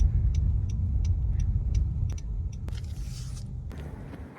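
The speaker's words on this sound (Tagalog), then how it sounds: "Dito na lang po ako paparada." Car being parked: a low engine rumble runs under a steady, rhythmic ticking like a turn signal, followed near the end by a couple of sharp knocks and a brief hiss.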